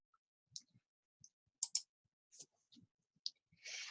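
Several soft, crisp computer mouse clicks at irregular intervals, close by in a quiet setting, ending with a brief rustle.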